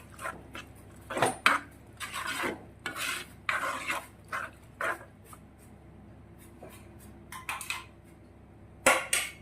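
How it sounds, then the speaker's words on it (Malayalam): A spoon scrapes and stirs dry prawn and drumstick theeyal curry in a pan in irregular bursts, close and fairly loud, with quieter gaps between strokes and no talking. "ഇതെല്ലാം ഒന്ന് ശരിക്കും ഒന്ന് മിക്സ് ചെയ്യാവേ"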